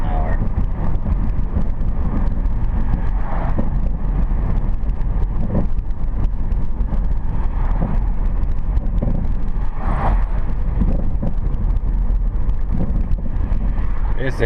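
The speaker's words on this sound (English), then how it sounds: "This is a bumpy road. You can hear the road noise." Steady rumbling road noise inside a car driving at 50 km/h over a bumpy road, a continuous low roar with occasional thumps and wind, constant and fairly loud throughout.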